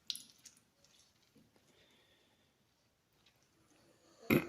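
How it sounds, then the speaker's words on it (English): Half a lemon is squeezed by hand, giving faint wet squishing and dripping with a few small clicks, then a louder squelch at the very end. No one speaks. "So I'm just going to squeeze all the juice from this half lemon"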